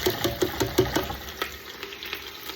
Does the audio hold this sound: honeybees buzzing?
no